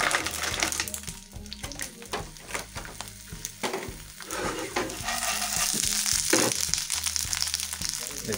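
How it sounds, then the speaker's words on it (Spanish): Clams hitting hot oil in a frying pan for paella give a loud, continuous crackling sizzle with bursts of spatter and stirring, steady close up throughout with no voices. "tenemos aquí la sartén con aceite ya caliente. Le vamos a echar las chirlas para la paella."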